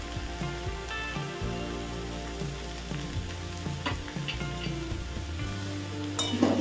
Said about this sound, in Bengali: শাপলাটা আমি ভালো করে নাড়িয়ে নেব